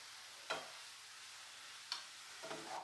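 Prawns cooking in a pan over a medium flame, a soft continuous sizzle broken by three brief scraping strokes of a spoon, quiet and close.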